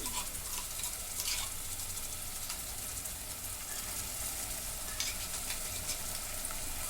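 Ginger garlic paste frying in a pan with well-browned onions for a spicy mutton curry, a steady broadband sizzle with occasional stirring scrapes, close and even throughout.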